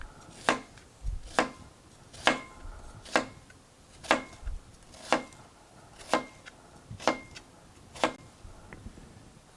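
A knife shaves around the outside of an onion on a cutting board while making an Italian salad, about ten crisp, evenly spaced chops sounding close and clear with nobody talking.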